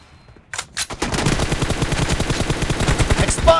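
Rapid bursts of gunfire in a mobile team deathmatch shooter game, dense repeated shots close and loud after a brief quiet start, continuing steadily to the end.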